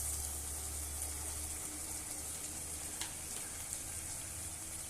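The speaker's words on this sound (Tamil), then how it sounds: "இப்போ வெங்காயம், தக்காளி, பூண்டு நல்லா வதங்கிடுச்சு." Onion, tomato and garlic sautéing in oil in a pan for a village-style fish curry, a steady close sizzle and hiss with a faint stirring clink partway through, no talking.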